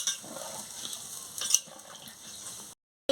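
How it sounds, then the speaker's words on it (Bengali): Water being stirred into potol posto (pointed gourd in poppy seed paste) in a pan, a soft continuous scraping and liquid sizzle close by, with a brief louder clink midway before it cuts off. "আমি পরিমাণ মতন জলটা দিয়ে দিচ্ছি জলটা দিয়ে ভালো করে নাড়িয়ে নিচ্ছি"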